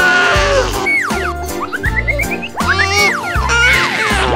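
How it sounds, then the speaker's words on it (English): A wooden caterpillar toy set plays a loud, warbling cartoon sheep bleat over a bouncy children's music backing with a steady thumping beat. "Sheep."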